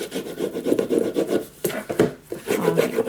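A bone folder rubbed firmly along the paper edges of a handmade treehouse keepsake box, making close, dry scraping strokes in short repeated bursts with brief pauses.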